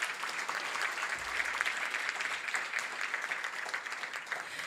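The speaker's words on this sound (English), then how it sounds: "Let's give them another round of applause," Continuous applause from a crowd at a Latino leadership awards ceremony, moderately quiet and even, with a brief low rumble partway through and no speech.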